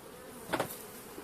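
Caucasian and Carniolan honeybees buzz faintly at an unreduced hive ready for winter, a soft steady hum with one brief, closer swell as a bee passes.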